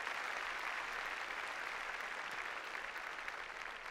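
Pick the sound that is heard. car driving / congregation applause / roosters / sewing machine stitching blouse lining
congregation applause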